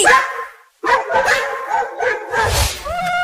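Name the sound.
dogs barking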